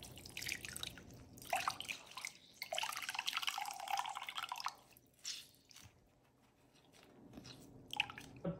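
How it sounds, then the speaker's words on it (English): Water drips and trickles from a Swedish dishcloth as it is wrung out, coming in several close bursts of splashing and patters separated by short quiet gaps. "Let's see how much we can wring out."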